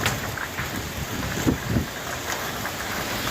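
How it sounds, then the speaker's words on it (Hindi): Steady heavy rain hisses throughout, with a couple of low rumbling thuds midway and no voices. "बारिश होने लगा यार"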